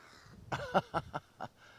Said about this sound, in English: Look at the crows.